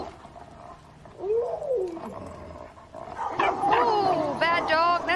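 A chained-up dog barks and yips at a nearby yard, several sharp barks rising over people talking close by.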